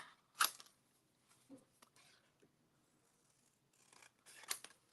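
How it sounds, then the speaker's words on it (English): Scissors cut with a few crisp snips, one near the start, a softer one in the middle and another near the end, faint and close in an otherwise quiet space. "Let me cut them both."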